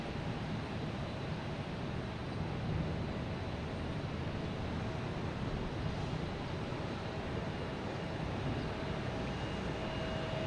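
An MD-11 airliner arrives at Boston Logan Airport, heard as a steady, broad jet roar that holds evenly at moderate distance throughout, with no talk over it.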